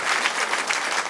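Audience applause at a comedy special fills the whole brief moment, steady dense clapping from a live crowd with no voices over it.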